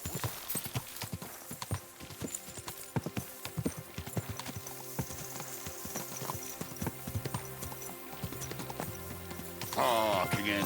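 Horse hooves clip-clopping in the medieval video game Kingdom Come: Deliverance II, a steady walking rhythm of close, crisp hoofbeats over quiet game ambience, with a brief neigh or rustle near the end.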